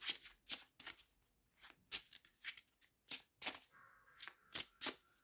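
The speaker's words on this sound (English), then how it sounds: "I've now picked up the mixed emotions cards" A deck of emotion cards is shuffled and riffled in quick repeated bursts of crisp flicking and snapping, close and clear, with no talk.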